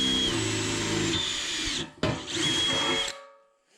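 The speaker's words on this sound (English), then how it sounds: "I'll drill a hole in the tank for the fitting." A power drill bores a hole through a new fuel cell tank for a bulkhead fitting, two loud close whining bursts of a couple of seconds each with a brief pause between, then spinning down.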